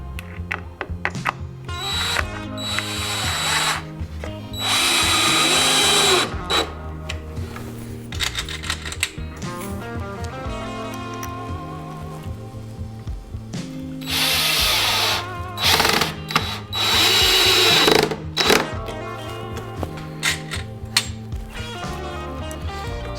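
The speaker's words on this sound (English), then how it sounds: "we're just going to screw that down right into the front panel and the 2x over here" A power drill drives screws into wooden boards of a raised garden bed, loud whirring bursts that start, stop and restart in several bursts, with ratcheting clicks between, no speech.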